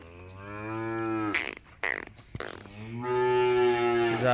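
Cows in a cattle stable give long, deep moos, close and loud, with a short break of scuffling noises before another sustained low call fills the rest.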